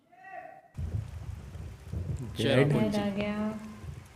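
Steady rain hisses in the background, with a voice speaking over it for much of the time.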